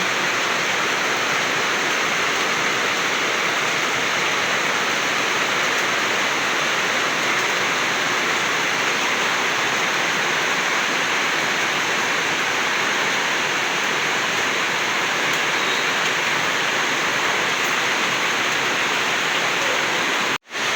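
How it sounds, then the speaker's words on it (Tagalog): Heavy rain pours down in a dense, unbroken hiss, loud and close, with a steady wash of falling water that stays constant and cuts off abruptly at the very end. "Mas lalo pang lumakas yung ulan."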